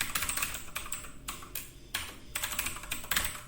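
Fingers type a short name on a computer keyboard in a quick run of dense key clicks, with two brief pauses breaking the rapid, close tapping.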